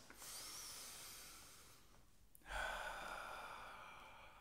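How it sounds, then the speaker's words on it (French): Slow, conscious breathing in a shamanic meditation: a long, soft exhale, a brief pause, then a stronger airy breath, close and intimate with no talking. "Prendre quelques respirations en conscience."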